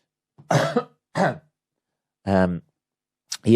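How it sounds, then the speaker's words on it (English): A few short, sharp coughs close to the microphone, separated by brief silences, followed by a quick throat sound. "so sorry about the little cough there."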